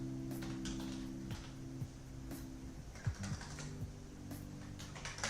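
Someone types on a computer keyboard during a drawing livestream, producing faint, scattered key clicks over a low steady hum.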